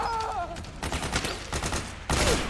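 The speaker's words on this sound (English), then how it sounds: "Gunshot!" Bursts of gunfire in the Metal Gear Solid 4 video game, rapid crackling volleys in several clusters, loud and close, with a short louder burst near the end.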